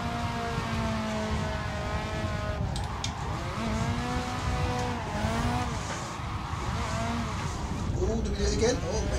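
Nissan S14 drift car in Assetto Corsa, engine revving hard through shifts with tyres squealing continuously, loud and close throughout, a voice talking over it.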